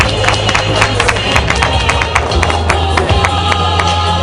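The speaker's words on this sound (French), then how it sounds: "On applaudit." Wedding guests clap along amid crowd noise and loud music, a steady mix of applause and cheering under the party din.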